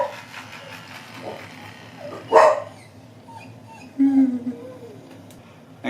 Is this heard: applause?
no